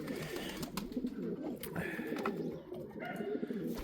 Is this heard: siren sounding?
no